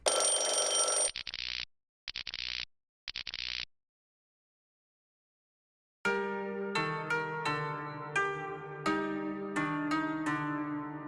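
A video game telephone rings in three short electronic bursts, followed by silence and then a run of bright chiming notes.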